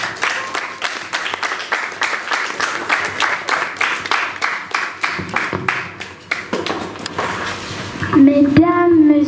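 An audience claps in steady rhythmic unison at a magazine anniversary event, the clapping fading into looser scattered claps before a voice starts speaking near the end.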